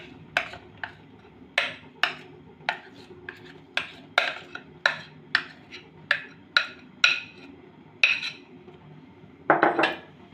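A vessel of dhokla batter tapped and shaken by hand, a series of about sixteen sharp metallic knocks at a loose, uneven rhythm, each fading quickly over a quiet background with no talking.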